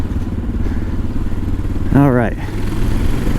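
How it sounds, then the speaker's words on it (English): A Honda XR650L motorcycle engine runs with a loud, steady low thrum close by while riding, and someone briefly speaks over it. "probably one of my favorite things about this bike is the engine"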